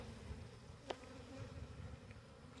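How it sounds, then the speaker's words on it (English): Honeybees hum faintly and continuously as they are shaken off a brood frame during a January hive check, with one soft knock partway through. "let me shake these bees off"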